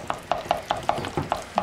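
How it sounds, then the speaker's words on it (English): Pesto ingredients stirred in a pan, a regular rhythm of about eight scraping strokes, each a short rasp, close and moderately loud, with no talk. "Just keep stirring."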